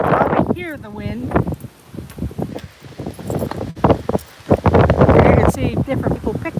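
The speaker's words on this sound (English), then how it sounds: "it's pretty windy up here, and you can probably hear the wind." Gusty wind at Presque Isle State Park buffets the microphone in rough, uneven surges that rise louder near the end, while someone talks over it.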